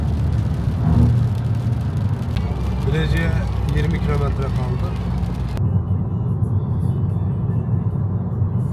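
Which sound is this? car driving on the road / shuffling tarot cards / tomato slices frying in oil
car driving on the road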